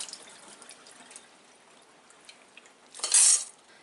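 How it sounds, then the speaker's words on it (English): Dry navy beans are rinsed in water, with quiet intermittent rustling and trickling followed by a louder, brief splash and sloshing burst near the end, close by and with no speech. "16 ounces of navy beans, and I'm going to rinse them"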